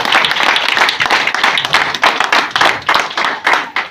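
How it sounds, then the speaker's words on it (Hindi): Loud, dense audience applause at a business seminar, sustained clapping from a crowd with rhythmic swells throughout, no voices over it. "इनके लिए हम जोरदार तालियां बजाते हैं।"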